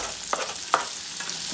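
Two large sliced onions fry in hot oil with a continuous close sizzle, broken by a few sharp scrapes of stirring.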